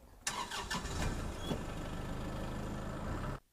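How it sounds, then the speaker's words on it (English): A Kubota tractor engine cranks with a few sharp bursts, then catches and settles into a steady, rumbling idle close by. "Now we're going to start the tractor up and push into our pile of dirt."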